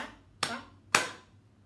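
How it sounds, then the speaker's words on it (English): Two sharp hand claps spaced about half a second apart, close and clear, keeping time with a children's storytime rhyme in an otherwise quiet room. "My hands say thank you with a clap, clap, clap."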